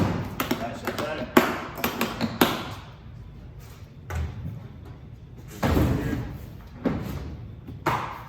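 A storage cabinet being latched shut, producing a few close, solid knocks and thuds of a door and latch, with people talking between the impacts.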